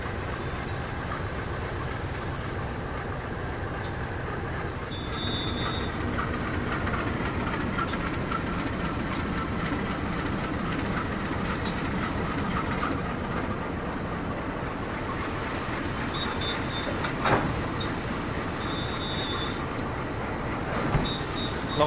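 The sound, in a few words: locomotive being coupled to the Kertanegara train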